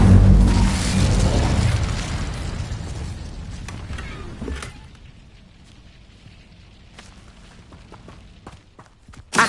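An Incendio fire spell in Hogwarts Legacy erupts in a loud, roaring burst of flame that swells and then fades over several seconds, leaving scattered clicks and small pops, with no talking.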